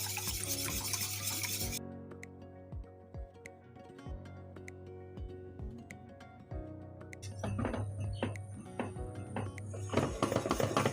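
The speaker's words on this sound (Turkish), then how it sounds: "Çırpma teliyle kaynayana kadar karıştırıyoruz." A whisk stirs cream in a pot on the stove for profiteroles with quick, light metallic clinks and scrapes against the pot. The stirring repeats in an uneven rhythm, with a louder hissing patch at the start and end.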